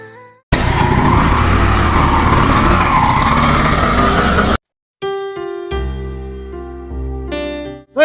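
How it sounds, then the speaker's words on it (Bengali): A car engine roars loudly for about four seconds, then cuts off abruptly and gives way to sustained musical tones. "দে গাড়ি স্টার্ট দে, চল।"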